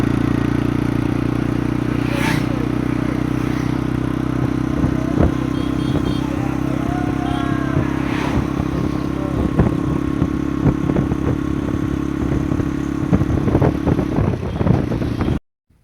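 A motorcycle ridden with friends along a tree-lined country road gives a loud, steady engine drone with clattering road noise, close and continuous, cutting off abruptly at the end.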